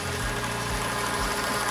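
A rebuilt engine runs on a test stand just after start-up, a steady close idle with a regular mechanical pulsing and clatter, no voices over it.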